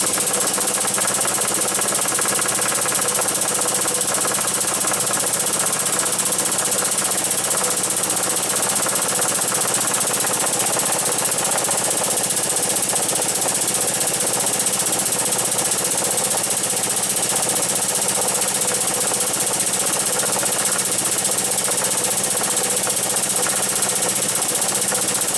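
A hydro-pneumatic bottle jack runs on compressed air with the compressor switched off, giving a steady, continuous mechanical hum and pneumatic rattle that holds at an even level throughout, with no talking.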